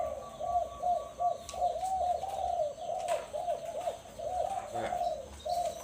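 A dove coos repeatedly in a steady low rhythm, fairly close, over faint outdoor background noise, with a few soft clicks.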